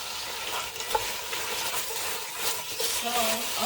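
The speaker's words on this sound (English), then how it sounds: "So yeah, that's ready to put into my saute pan." Browned meat for a pineapple caldereta sizzles and is stirred in a saute pan, a steady close fry crackle with soft scraping throughout.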